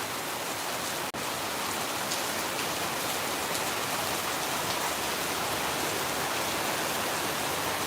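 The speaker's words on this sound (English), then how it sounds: "It's the first like monsoon of the year." Heavy monsoon rain pours down over Phnom Penh, a dense, loud and continuous roar with no break or voices.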